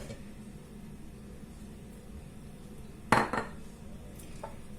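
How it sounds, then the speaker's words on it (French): Eggs go into a container at home while stale bread is readied for a recipe, giving one short, sharp clatter of shell against the vessel with a softer knock just after, over a quiet room. "Je vais commencer par prendre un contenant et mettre mes œufs."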